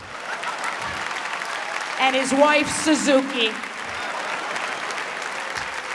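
A comedy club audience applauds loudly and continuously throughout, while a voice briefly talks over the clapping midway.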